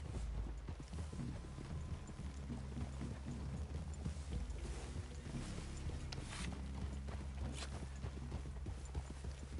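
Horses walking along a trail in Red Dead Redemption 2, steady hoof clops with creaking tack under a low continuous rumble, faint and even throughout.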